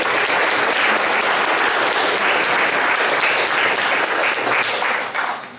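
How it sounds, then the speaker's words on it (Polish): An audience applauds the authors at a Shakespeare festival awards ceremony, steady dense clapping from a large crowd that holds evenly throughout and trails off at the end. "Brawa dla autorów."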